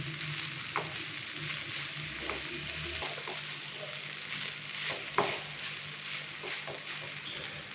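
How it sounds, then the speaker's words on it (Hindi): Rice being stir-fried in a pan, a soft steady sizzle with a few scattered scrapes and taps of a spoon mixing it, faint and fairly even throughout, no voices. "चावलों को हमने हल्का सा फ्राई कर लिया है 1 से 2 मिनट के लिए"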